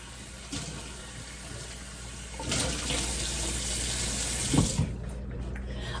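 Water runs from a kitchen tap to rinse out a cupcake pan, a steady close hiss of flow with a few splashes and clunks of the pan under the stream.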